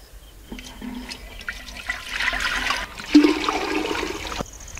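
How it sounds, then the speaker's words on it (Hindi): Clean water pours into a clay pot, a steady splashing gush that swells midway and runs on for several seconds. "इसके बाद हम पहले मटके में शुद्ध पानी डाल देते हैं।"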